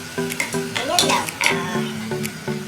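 Sinigang being stirred in a cooking pot, with soft scraping and clinking of a utensil against the pot over a faint simmer, several short strokes close by and no voices.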